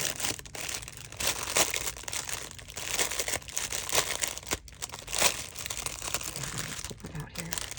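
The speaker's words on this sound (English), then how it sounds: "I'm sorry about the crinkling." Plastic packaging around a handmade paper flower doily crinkles close up in repeated bursts of crackling and rustling while someone handles and unwraps it.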